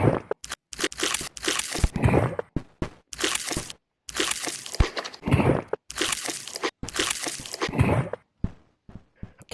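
Godzilla chomping in a video game: loud, rapid crunching and munching bursts repeat in clusters with brief silent gaps, dense and close.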